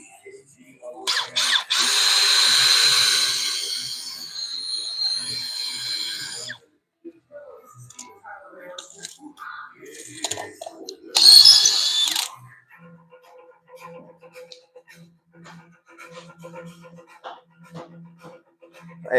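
Power drill driving screws on a building construction job, a loud sustained whine near the start followed by a shorter burst later, with quieter workshop noise and brief talk between.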